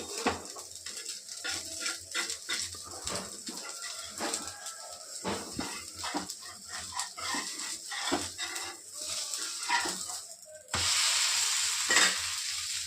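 An onion dosa cooks on a hot pan with a continuous sizzle broken by frequent short scraping and clattering sounds, and the frying swells into a louder, steady hiss near the end, close by with no talking.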